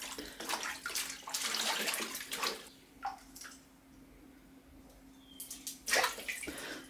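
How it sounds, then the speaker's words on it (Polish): Muddy beetroots being washed in a basin of water, with intermittent sloshing and splashing, pauses of near quiet, then another burst of swishing near the end. "Zobaczcie, tutaj jest pierwsza woda po buraczkach i tak obmywałam je 3 razy."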